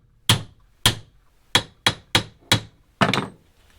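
A hammer strikes a Dana Spicer 1310 Jeep U-joint held in a vise: seven sharp metallic blows at an uneven pace, the last two in quick succession, each ringing briefly before dying away.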